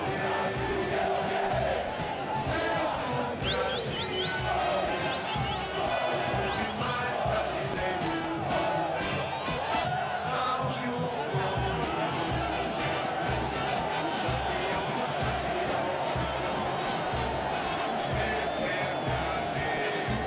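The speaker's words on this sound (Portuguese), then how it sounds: "No som do hino, a comemoração com a torcida." Football fans at the Corinthians Copa Libertadores 2012 title celebration chant and sing the club anthem, a loud, dense, continuous crowd roar with cheers and shouts filling the stadium throughout.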